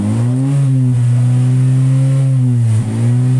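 Honda City 2012 engine with an aftermarket muffler revving steadily at close range, a deep continuous drone holding one pitch with a brief dip near the end, loud and alone.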